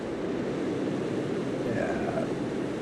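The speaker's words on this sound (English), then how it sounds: "Go under the waterfall." A waterfall in the Ark video game, on the Sanctuary map, gives a steady, full rushing roar that stays even and unbroken throughout without any voices.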